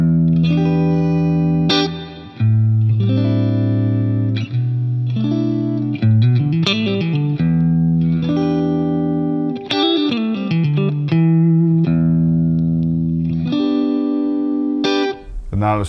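An electric guitar played through a Bugera G20 Infinium Class A tube amp head, with reverb set around halfway, rings out sustained chords and picked single-note runs, loud and close with a lingering wash between phrases.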